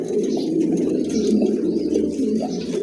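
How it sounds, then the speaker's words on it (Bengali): A pair of pigeons cooing steadily, with low throaty rolling calls that run continuously and close, with no talking. "খুবই চমৎকার কবুতর জোড়া"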